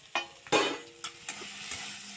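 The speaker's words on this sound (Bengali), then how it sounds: "এবার মশলাটাকে আমি কষিয়ে নেব।" Spice paste with turmeric is stirred and fried in a pan with soybean chunks and kohlrabi, giving a few sharp scraping strokes over a soft, low sizzle.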